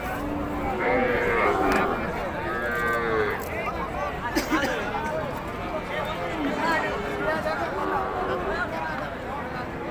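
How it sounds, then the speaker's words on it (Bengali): Cattle and young calves low and moo repeatedly at a busy outdoor cattle market in Panchbibi, overlapping calls near and far amid crowd bustle and people talking. "সব ছোট ছোট বাছুর গরু।"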